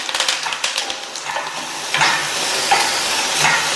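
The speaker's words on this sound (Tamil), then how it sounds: "நம்ம சேர்த்த பூண்டு புளி ரெண்டுமே நல்லா சாஃப்ட் ஆகிற வரையும் வதக்கிக்கங்க" Garlic, tamarind and curry leaves sauté in a pan for a Tamil thuvaiyal side dish, with a loud close sizzle, a few sharp taps and stirring scrapes early on, then a steadier hiss.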